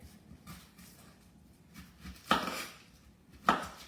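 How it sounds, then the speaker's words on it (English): A knife chops half an onion on a board, making two distinct, crisp cuts about a second apart. The strokes are close and fairly quiet against a soft, low background. "I'm going to just chop, I need 1/2 of an onion"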